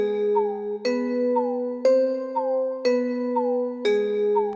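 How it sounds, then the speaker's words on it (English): A mellow synthesized marimba (Bent Marimba preset) plays a steady repeating pattern, notes layered an octave apart with soft mallet attacks and gently bending tones. "I use only one sound that is called Bent Marimba."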